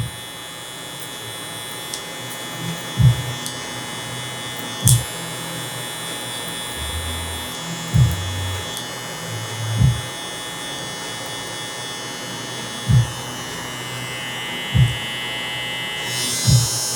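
Electric hair clippers with the guard lever open cut fluffy Asian hair: a steady close motor hum runs throughout, broken by regular soft thumps roughly every two seconds as the clipper works through the hair.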